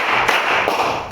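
Hands clap sharply during a classroom counting exercise, a couple of quick, close, loud claps with no talk.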